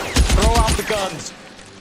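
Rapid gunfire bursts in the crime video game L.A. Noire, loud and close, rattling over the first second alongside a voice before fading out.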